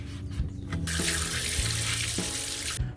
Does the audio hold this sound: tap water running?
yes